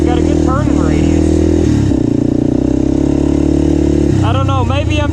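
A quad ATV engine runs loudly and steadily through race practice, holding a strong drone with rising revs near the start and again toward the end.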